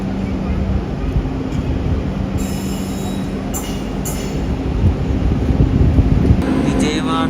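The Prashanti Express passenger train bound for Bhubaneswar arrives at a station behind a WP7 locomotive, a loud continuous rumble of wheels on rails with high squeals and a horn-like tone, and people talk nearby.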